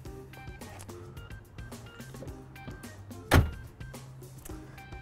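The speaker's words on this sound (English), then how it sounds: "So let's shut up these doors." A single solid thud of a 2017 GMC Savana conversion van's door shutting stands out midway, over a low background of clicks and mechanical hum, fairly close.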